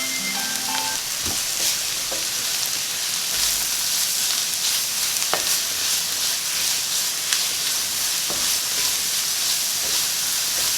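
Carrots frying in a pan with browned onions give a steady, loud sizzle and hiss throughout, with occasional stirring clinks and no talking.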